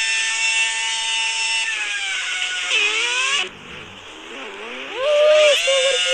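Car engine effect in the Turbo Dismount video game: loud, whining engine tones that hold steady, then slide down and climb back up, with a brief dip before the sound swells again.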